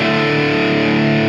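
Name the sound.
electric guitar through EWS Brute Drive distortion pedal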